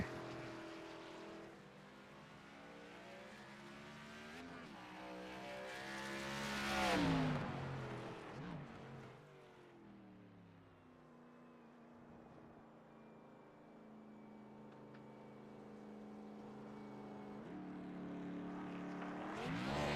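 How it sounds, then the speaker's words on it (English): A race car in an oval series at Silverstone circuit laps the track, its engine note rising as it passes close by and fading away into the distance before building again, with no talk. "He's gonna do his lap around the track."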